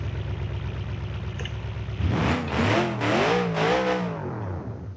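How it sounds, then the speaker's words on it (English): A racing V8 engine in the BeamNG driving game, idling steadily and then revving up hard in several rising and falling surges, loud and close, with no talk. "All of you guys are loving the sound of this V8 engine."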